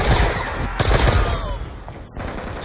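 Rapid pistol gunfire in a Black Ops 2 Zombies match, a quick burst of sharp shots at the start and another cluster near the middle, loud and close with no talking.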